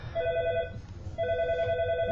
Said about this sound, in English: just ignore the odd ringing that's going on next to me.